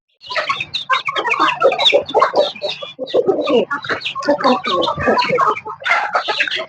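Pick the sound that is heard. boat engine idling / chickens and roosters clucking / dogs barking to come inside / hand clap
chickens and roosters clucking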